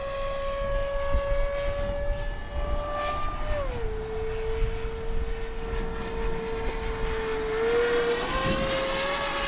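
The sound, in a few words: Kavan Skyfox L-39 RC jet with outrunner motor flying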